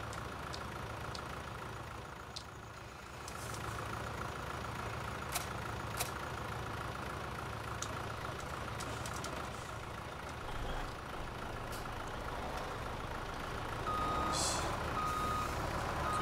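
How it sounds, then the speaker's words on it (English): Farm video game truck being moved, its engine idling steadily while a reversing beeper sounds in a regular repeating pattern, with scattered clicks and a brief higher tone near the end. "we need to move this truck out of the way if we're going to get the water"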